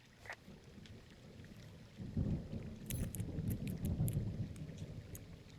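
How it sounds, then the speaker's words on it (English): A nearby storm in the video game Firewatch rumbles with low rolling thunder that swells after a quiet start, with rain and scattered drips crackling over it and no speech. "A nearby storm."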